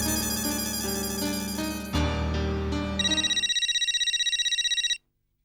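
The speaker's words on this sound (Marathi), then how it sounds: "अरे गोगीचा फोन" A phone rings loudly with a repeating electronic ringtone for about five seconds, an incoming call from Gogi, the tone changing pattern midway and then cutting off abruptly.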